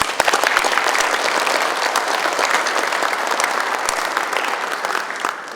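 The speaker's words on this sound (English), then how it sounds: "I think they deserve another round of applause." An audience of military members and their families applauds at a student veterans event, dense steady clapping filling the room, loud and close, with no talk over it.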